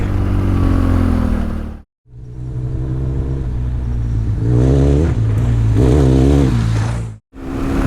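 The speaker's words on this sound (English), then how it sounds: "The more I'm riding this bike, the more confident I'm getting in it." A custom BMW 1200 GSA motorcycle ridden at speed, its engine rumbling steadily and loud with rising revs and brief dips as the rider shifts, close to the microphone.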